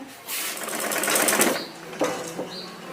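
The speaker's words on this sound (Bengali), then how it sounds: "আম্মু হচ্ছে আমার একটু শাড়ির মানে পার সেলাই করে দিচ্ছে" A sewing machine stitches the border of a sari, giving a steady, close buzzing whir that runs for about three seconds and rises slightly midway, with no voices over it.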